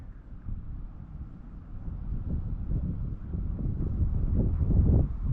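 Low, rumbling wind gusts buffet the microphone outdoors, building steadily stronger toward the end, with no voices.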